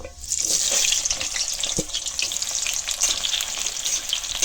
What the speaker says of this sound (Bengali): তেল দিলাম, এখন কয়েকটা শুকনো মরিচ ছিড়িয়া দিচ্ছি।